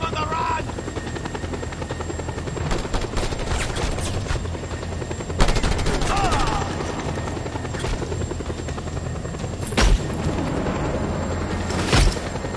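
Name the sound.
helicopter arriving in the video game Just Cause 2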